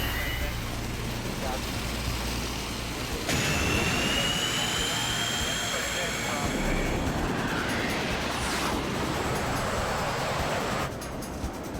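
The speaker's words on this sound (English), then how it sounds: "Look at those F-15s." F-15 fighter jets roaring overhead in the Parasite Eve video game, a loud sustained jet engine rush with rising whine that swells and fades, game sound alone.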